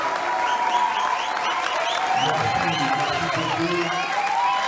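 A crowd at a political debate in Kisangani applauds steadily and loudly throughout, with cheering voices mixed into the dense clapping.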